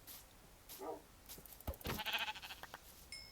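Minecraft sheep bleats in a survival game, a few short, soft bleats scattered through the clip with faint game sounds between, no talking.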